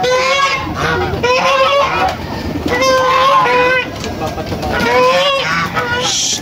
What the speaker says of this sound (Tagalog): Matapang tong gansa na to.